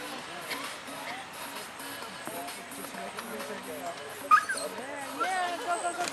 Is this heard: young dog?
yes